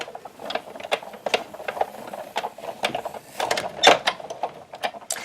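Paper and card run through a hand-cranked die-cutting and embossing machine, giving a steady series of clicking, ratcheting mechanical ticks of moderate loudness with no talking.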